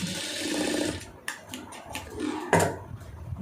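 Sewing machine stitching around a round neckline, with short bursts of motor whirring broken by brief pauses and small clicks, close by and fairly loud.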